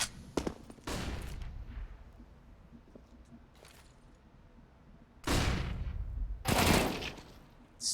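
Bursts of FAMAS rifle fire in a competitive Counter-Strike match, several sharp volleys spaced out with quieter gaps between, the last ones louder and closer.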